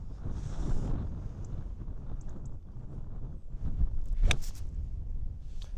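Steady, rumbling wind buffets a microphone on a golf course, a constant low roar with gusty swells throughout and a brief sharp tick near the end, with no voices.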